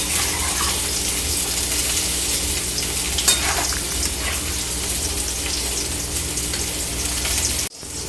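Shukto, a Bengali mixed-vegetable dish, is stirred in a pan after ghee is added, giving a steady, close frying sizzle with soft scraping throughout and a brief dropout near the end.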